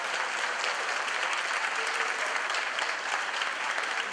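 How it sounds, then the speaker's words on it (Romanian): Steady, dense applause from guests at a Romanian wedding party, a continuous wash of many hands clapping at even loudness throughout, heard alone without talk. "Se aplaudăm!"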